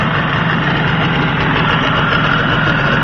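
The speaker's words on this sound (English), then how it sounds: "Nice running outboard. 1986 Tohatsu." A 1986 Tohatsu 18 HP tiller-control outboard motor idles steadily up close, a loud, even low drone with a rough buzzing texture and no pauses.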